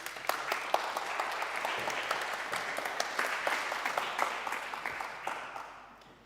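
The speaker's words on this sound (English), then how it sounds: "Round of applause for Fanny." An audience at a seaweed coalition meeting at the Maison de l'Océan in Paris applauds steadily for about six seconds, moderately loud and evenly spread, then fades out.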